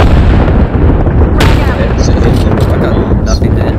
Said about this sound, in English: this is where my three grenades come in handy